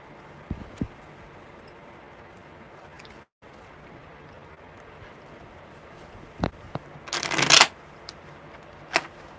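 Tarot cards being shuffled close up: a few soft taps and riffles, then a quick crisp burst of a bridge-style riffle near the end, with quiet room background.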